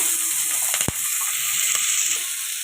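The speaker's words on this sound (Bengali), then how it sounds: "কুচনো পেঁয়াজ দিয়ে দিলাম তেলের মধ্যে" Chopped onions hit hot oil in a kadai while fish for a Bengali doi katla curry cooks, giving a steady close, loud sizzle with one sharp clatter near the start and no talk.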